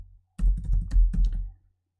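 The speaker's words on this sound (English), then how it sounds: "we're going to press shift enter on the keyboard" A computer keyboard clicks as several keys are pressed in a quick, close cluster of taps that stops abruptly, with no voices.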